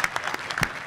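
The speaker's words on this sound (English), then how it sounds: "Let's give all of our CRT members a round of applause." Applause from an audience, a steady patter of many hands clapping with several sharper bursts standing out, filling the whole short moment.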